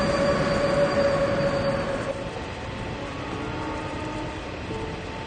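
A train runs along a railway on the Tibetan plateau, its steady rolling rumble and wheel squeal loud and close, with a tonal whine in the first two seconds before the noise settles to a continuous drone.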